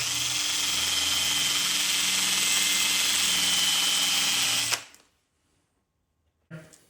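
A power drill grinds an axe edge steadily with a loud high whine for several seconds, then stops abruptly; a brief clunk follows after silence.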